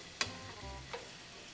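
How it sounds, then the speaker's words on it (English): Viral life-hack item frying in hot oil, giving a soft crackling sizzle broken by two brief sharp pops, quiet and close, with no talking. "why is it sizzling? Because it's in oil."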